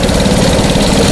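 Small homemade kart engine, built with a window frame and Temu accessories, runs hard with a steady buzzing drone throughout, close and loud with no pauses.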